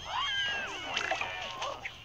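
Scaredy-cat card in the game Plants vs. Zombies Heroes, giving a short, high cartoon cat meow and wavering caterwaul that rises and falls over about two seconds.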